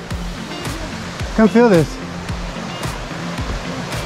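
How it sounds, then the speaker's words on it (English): Water flows out of a cave into a small stream at Virgin Falls, a constant rushing wash beneath close voices with a brief exclamation in the middle. "So that's the cave where all the water comes out of."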